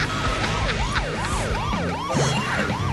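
Police car sirens wail in The Simpsons: Hit & Run on PS2, several overlapping rising-and-falling siren sweeps repeating rapidly over a steady engine rumble, loud and close throughout.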